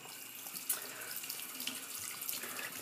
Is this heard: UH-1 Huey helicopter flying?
no